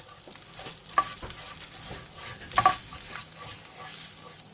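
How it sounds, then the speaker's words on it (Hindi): Spices fry over low heat in a pan while being stirred, giving a soft continuous sizzle broken by a few sharp scrapes and clinks of the spoon against the metal, close up and fairly quiet. "ये 20 सेकंड मैंने इसको इतना ही भूनना था"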